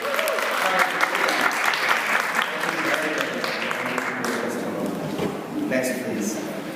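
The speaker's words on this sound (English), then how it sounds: "I want to give you a round of applause" Sustained applause from an audience at a gathering for English language learners, dense and steady clapping that fills the room for the whole stretch, with a slight swell near the end.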